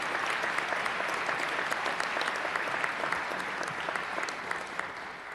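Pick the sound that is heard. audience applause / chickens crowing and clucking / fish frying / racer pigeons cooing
audience applause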